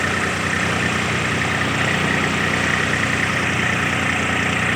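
A tractor engine runs at a steady idle nearby, a constant low rumbling drone that holds even throughout with no talk over it.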